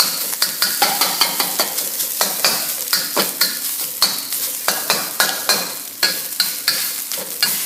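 A spatula scrapes and chops fried rice in a hot frying pan with steady rhythmic strokes over a constant loud sizzle, close up with no talking.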